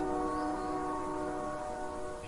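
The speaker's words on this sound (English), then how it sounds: "I hear the train whistle getting louder." A steady, sustained train whistle sounds in the video game A Dark Place. The tone is held evenly and fairly faint throughout, with no talk over it.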